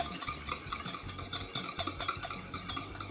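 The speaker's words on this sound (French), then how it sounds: "Je bats donc les jaunes et l'œuf entier au fouet." A whisk beats egg yolks, a whole egg and sugar in a bowl for a tarte tropézienne, with quick, regular scraping and tapping strokes, close and moderately loud, and no talk.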